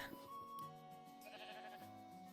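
A sheep bleats in the Minecraft video game, a short wavering bleat heard quietly over soft background music.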